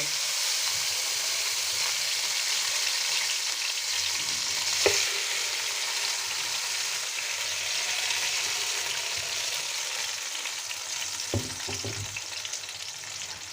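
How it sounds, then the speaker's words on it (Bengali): Beef pieces with fat frying in a pan for a Bangladeshi beef curry, a loud, steady sizzling hiss throughout with one sharp clack midway and a few low thumps near the end, no voices. "ভাজা হয়ে গিয়েছে এ পর্যায়ে আমি দিয়ে দিচ্ছি মাংসগুলো"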